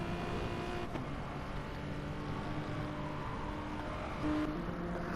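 A Ferrari and a Hyundai race car in a sim racing game at Monza drone steadily with engine tone, a continuous mid-loud roar with slight pitch shifts and no talk.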